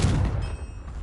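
A Confringo spell detonating in Hogwarts Legacy, a short loud blast with a booming low rumble that tails off within a second.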